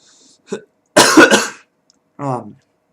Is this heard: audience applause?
no